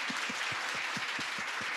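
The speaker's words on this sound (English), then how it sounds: "please join me in giving them a big round of applause" Applause from a conference audience for a panel of women at a beauty-industry event, heard faint and distant as a steady broadband wash with a few dull rhythmic thumps underneath.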